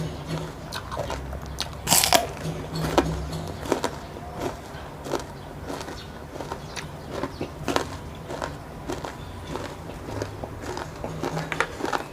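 Crunchy chewing of steamed apple snail meat close up, with repeated crisp bites and crackles in an irregular rhythm and no talking.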